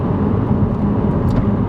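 A Kia Optima SX Turbo engine accelerates, a loud, steady, close rumble heard from inside the car that holds nearly constant through the stretch, with no talk.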